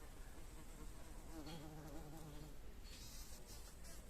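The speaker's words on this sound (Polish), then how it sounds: "O, jeszcze tutaj chwilkę tego bzyczka." A bumblebee buzzes close by while pollinating yellow pear-shaped cocktail tomato flowers on a balcony, a low droning hum that swells briefly midway over soft outdoor background noise.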